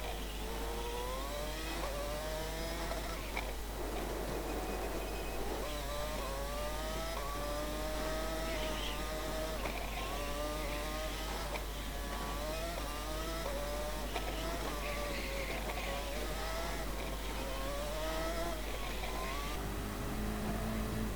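A Lamborghini racing car engine in a racing video game drones and whines continuously, with repeated rising pitch sweeps as it accelerates through gears and falls off under braking into a corner, loud and steady throughout.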